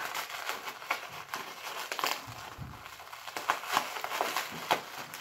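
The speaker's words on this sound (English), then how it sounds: "I'm going to need to cut through the bubble wrap" Bubble wrap packaging around a PS5 game being cut open and pulled apart, a close series of crinkling, crackling and tearing bursts in an uneven rhythm, with no talking.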